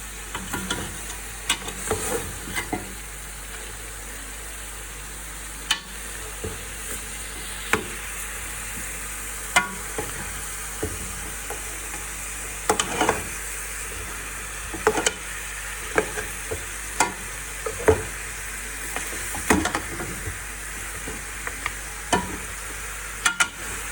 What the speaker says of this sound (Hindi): थोड़ा सा पायों को जो है वो हम भून लेते हैं